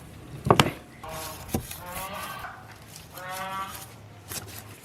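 A cleaver chopping a large slab of fresh beef ribs, two heavy thwacks close together and then a single one, followed by quieter scraping and handling sounds, with faint murmuring nearby.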